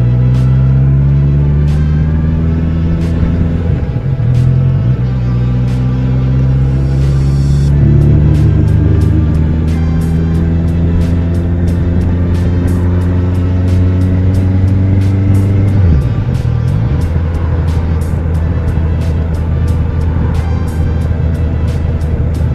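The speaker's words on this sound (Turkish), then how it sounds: "Trafik tıkanmış, yol kapanmış" Cars idle and creep in a congested evening road in Ayvalık, with heavy low engine rumble close by, gear changes and revs shifting pitch, and faint ticking under a steady drone.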